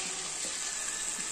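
A chicken pakoda mixture sizzles steadily in hot oil, a close, even frying hiss with no voices over it.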